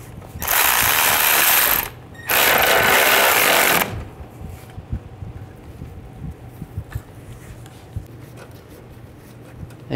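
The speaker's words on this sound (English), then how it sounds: "I'm gonna tighten this bolt down." A ratchet tightens the alternator bolt on a 2006–2012 Ford Fusion in two loud, close bursts of spinning, with a short pause between them, then near quiet.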